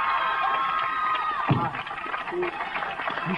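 A crowd at a hip-hop event cheers and shouts continuously, a dense, lively roar with whoops rising through it.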